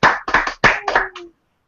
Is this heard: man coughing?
no